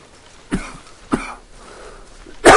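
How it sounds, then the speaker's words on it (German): Two sharp coughs close to the microphone, about half a second apart, then a louder, harsher cough burst after a short pause. "Ich habe hier ein bisschen Husten."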